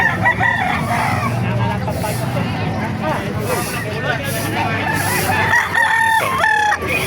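Roosters crow repeatedly at a busy chicken market in Calumpit, Bulacan, their loud calls rising over a constant babble of people talking nearby.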